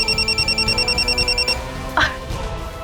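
A mobile phone rings with a loud, near, repeating electronic trill of rapid pulsing tones that stops partway through, followed by a brief voice and some room noise.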